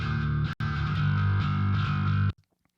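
Heavily overdriven bass guitar from a Kemper profile of a captured Pod tone, a thick fuzzy sustained riff that plays loud and dense, breaks off for an instant, resumes, then cuts to near silence.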